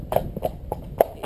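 Hooves of a ridden mare clip-clop in a steady, close walking rhythm, with about five distinct, fairly loud footfalls and no talking.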